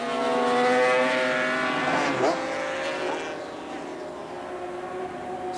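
Race car engine from the 1984 Bathurst 500 roaring up Mountain Straight at Mount Panorama, a loud sustained harmonic drone with a rising pitch sweep mid-clip, then easing slightly as the car passes.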